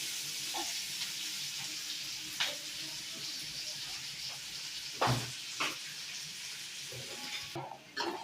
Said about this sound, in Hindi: प्याज हमारा देखिए अच्छी तरह से भून चुका है।